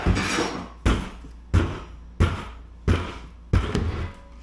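Hammer striking a tire wheel, six sharp heavy blows at a steady rhythm about two-thirds of a second apart, each ringing and decaying, close and loud.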